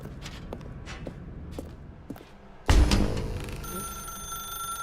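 Telephone ringing in The Stanley Parable video game begins abruptly partway through, after soft footstep-like shuffling, then keeps ringing loud and close with steady tonal bells to the end.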